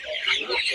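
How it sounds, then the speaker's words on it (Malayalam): An Andhra rooster gives a brief, near cluck, a short single burst of fowl calling. "ഇത് പൂവൻ."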